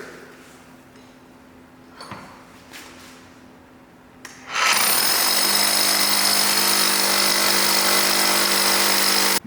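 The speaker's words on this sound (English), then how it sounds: "we have the good old Harbor Freight Hercules hammer drill with a drill bit" After a few quiet scrapes and knocks, a Harbor Freight Hercules hammer drill starts abruptly and roars continuously into concrete, loud and close, with a steady pounding whine.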